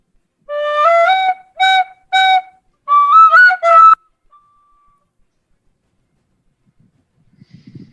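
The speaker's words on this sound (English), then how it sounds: "he pulls a whistle out from under his cloak, like an old flute-style whistle, and does his best to play it quietly" Old flute-style whistle played in short tonal phrases, several sustained notes with breaks and a rising run, fairly clear, followed by near silence and faint breath.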